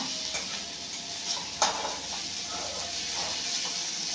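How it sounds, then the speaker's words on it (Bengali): Chicken with ginger and garlic frying in a pan, stirred steadily with a utensil; a continuous loud sizzle runs throughout, with light scraping strokes and one sharper clink of the spoon against the pan. "ভালো করে নাড়াচাড়া করো, মিক্স করো ভালো করে"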